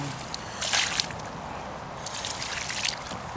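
Water is poured over a freshly caught carp at a club fishing lake, coming as two close splashing bursts with a steady trickle between them and no talking.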